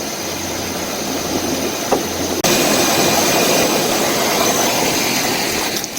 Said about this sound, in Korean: 자, 이렇게 시동이 잘 걸렸어요.